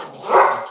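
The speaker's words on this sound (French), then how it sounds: "Donc vous voyez en direct mes chiens réagir." A pet dog reacting to people shouting nearby lets out a single short, loud bark, close by, with no voices alongside.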